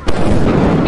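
A lightning strike in the video game Lethal Company, a loud, sharp crack that breaks into a rumbling, crackling burst lasting about a second, close and dominant, with voices mixed in.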